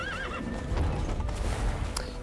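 A horse in The Witcher 3: Wild Hunt gives a loud wavering whinny, then hooves clip-clop beneath faint game ambience and a few sharp effects.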